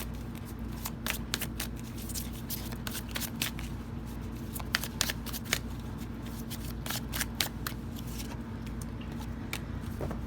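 Tarot cards shuffled close up in a steady riffling patter of rapid papery flicks and snaps, continuous for several seconds with no talking over it.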